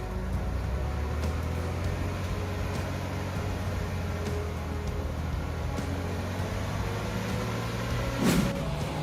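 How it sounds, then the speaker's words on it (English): A bus engine labouring as the vehicle climbs a steep hill, a steady low drone running throughout at moderate level, with a brief louder swell of noise near the end. "the bus successfully climbs the hill without any further incident"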